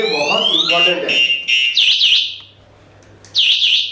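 An electric bike's anti-theft alarm sounds after the key locks the bike, letting out loud, close warbling siren chirps in repeated bursts with a short gap between them. A voice is audible at the start.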